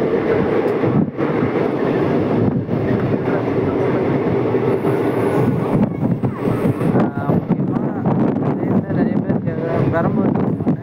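The Tirupati Express runs along the track with a steady loud rumble of wheels and carriage rattle, rhythmic clatter, and wind rush past the open window. A voice talks briefly over the noise.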